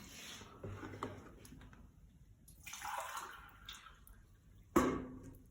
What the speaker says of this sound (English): first put 8 cups of water in the bowl